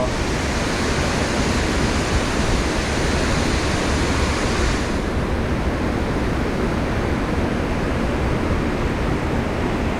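Fast, turbulent water churns at a dam on a river flowage, a loud, steady roar of rushing water filling the scene without pause.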